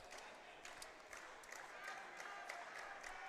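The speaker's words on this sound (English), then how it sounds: "An applause from his teammates on the bench." Volleyball teammates on the bench at an NCAA college match applaud in a steady patter of clapping, distant and faint beneath crowd murmur in the arena.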